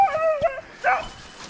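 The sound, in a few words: dogs barking and whimpering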